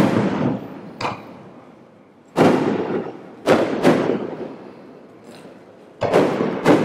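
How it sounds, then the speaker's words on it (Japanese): A fireworks display over the ANA InterContinental Ishigaki Resort, with loud, close bursts going off at irregular intervals, each sharp boom fading into a crackling tail. "花火をご鑑賞ください。"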